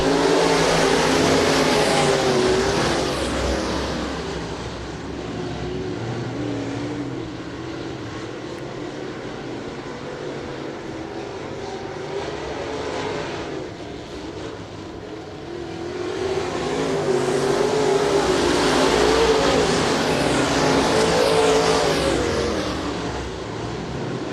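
Dirt-track race cars running a heat race at Bubba Raceway Park, a loud continuous engine roar that swells as the pack passes near, fades in the middle, then builds again with no talk over it.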